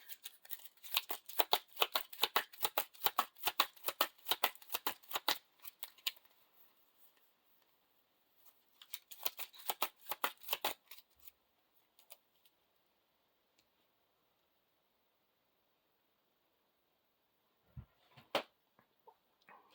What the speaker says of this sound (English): Shuffle this into the encounter deck.